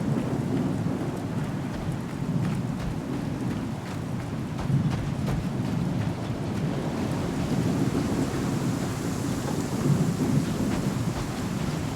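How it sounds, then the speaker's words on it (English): A thunderstorm in the Star Citizen video game, with steady heavy rain and wind roaring throughout and low thunder rumbling beneath the wash, loud and continuous with no voices. "Apparently the storm has not subsided."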